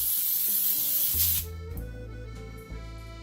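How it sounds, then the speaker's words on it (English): Non-stick cooking spray hisses loudly onto parchment paper for about a second and a half, followed by quieter kitchen handling sounds. "I will lightly cover the parchment paper with non-stick spray."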